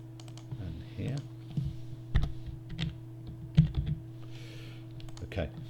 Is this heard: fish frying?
no